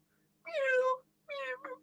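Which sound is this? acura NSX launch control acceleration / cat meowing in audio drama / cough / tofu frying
cat meowing in audio drama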